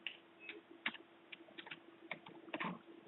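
Someone types on a computer keyboard, giving faint, irregular clicks of keys at close range over a low steady hum, with no talking.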